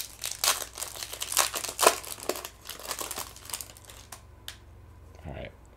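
A hockey card pack wrapper is torn open and crinkled close by, with bursts of crackly foil rustling that fade into a few lighter rustles near the end.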